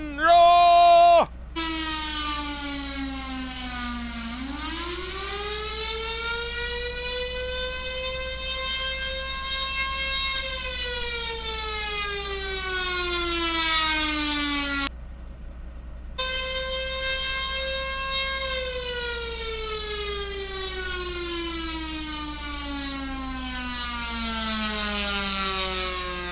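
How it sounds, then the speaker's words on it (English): A loud siren wails in long rising and falling sweeps, cut off briefly once before the wailing resumes and carries on steadily. "Remember the siren!"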